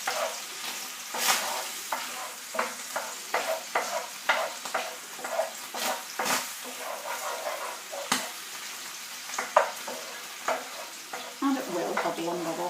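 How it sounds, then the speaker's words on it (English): Pasta carbonara sauce stirred in a hot pan, with repeated scraping strokes over a steady sizzle and bubbling, close and fairly quiet, with no talking. "Stir that around and let it hubble and bubble for a little minute or 2."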